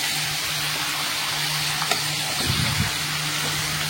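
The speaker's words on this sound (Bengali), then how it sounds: "একটু ভাজা ভাজা করি, তারপরে একে একে মশলা অ্যাড করে দেবো" Chicken pieces, legs included, fry in a pan with a constant crackling sizzle, while a utensil stirs through them in a few scraping strokes near the end.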